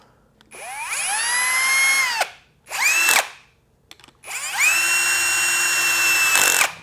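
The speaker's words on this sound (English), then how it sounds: "Thread them in. Grab your drill." A power drill whirs up in three bursts, the pitch rising as each spins, with short pauses between; loud and close, no talking, as it drives screws into a Harley-Davidson starter.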